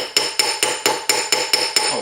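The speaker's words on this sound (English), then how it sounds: "And now we're going to hammer it. And so any roundish hammer will do." A round hammer strikes a sterling silver bangle eight times at a steady pace, each close, sharp metallic tap ringing briefly before the next, with no talking.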